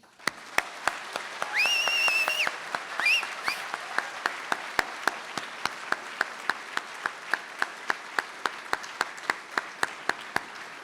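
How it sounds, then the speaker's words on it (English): Sustained audience applause at a College of Law class welcoming ceremony, steady clapping across the hall with a few sharp nearby claps standing out and brief cheering early on, fading to scattered individual claps. "please join me in a warm round of applause as I present to you the College of Law class of"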